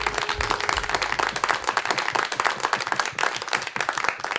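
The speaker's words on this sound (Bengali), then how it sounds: "মিউজিশিয়ানদের জন্য একটা জোরে হাততালি দেন সবাই।" Audience applause at a reality singing show stage, a steady burst of many hands clapping in a hall, dense and sustained for a few seconds.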